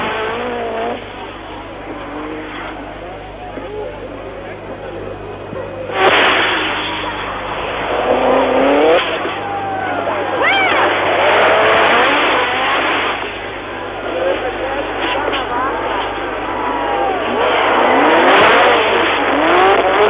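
A Lancia S4 rally car at the 1986 Monte Carlo Rally driving fast on a stage, its engine revving hard and rising and falling through gear changes, loud and close, with a commentator talking over it.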